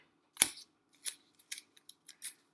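Scissors snip through paper, cutting out fraction pieces up close: one sharp loud snip followed by a quicker run of smaller clipped cuts, with no talk.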